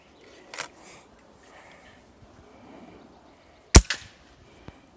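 A suppressed pellet rifle fires one sharp, loud crack near the middle, followed by a brief echoing tail and a faint later tick, against quiet outdoor background.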